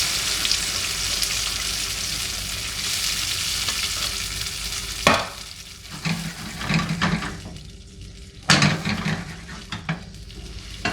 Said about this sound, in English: a few spoonfuls of our homemade tomato sauce into the hot olive oil